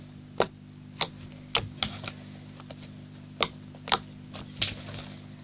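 Clicking slime is squeezed by hand close by, giving sharp, crisp snaps spaced out at irregular intervals about half a second to a second apart over a low steady background hum.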